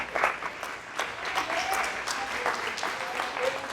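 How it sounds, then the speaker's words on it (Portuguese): A church congregation breaks into lively clapping during a sermon. The applause is steady and close, with faint voices mixed into the crowd noise. "Pode aplaudir, fica à vontade."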